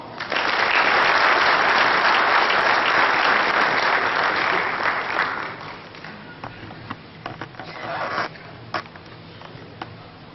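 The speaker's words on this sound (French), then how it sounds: "Des applaudissements, s'il vous plaît" Audience applause at a pétanque masters event in Madagascar, loud and dense for about five seconds, then thinning to scattered claps before a brief second swell.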